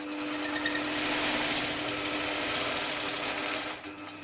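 A longarm quilting machine runs with a fast, steady mechanical stitching rattle while sewing a clamshell design, loud and close, before slowing and stopping near the end.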